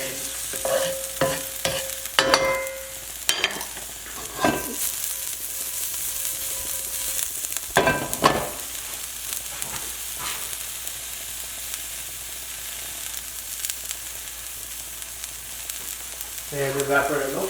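Food fries in oil in a pan as part of a St. Louis-style steak dinner, giving a steady, close sizzle. A spoon or spatula scrapes and stirs through it in sharp intermittent knocks, with only faint hints of a voice.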